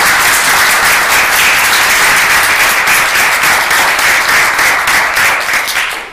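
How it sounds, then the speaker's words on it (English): Loud, thick applause from a conference audience for Philip after a talk on collaborative city media, clapping evenly and then easing off at the very end. "let's give Philip a round of applause"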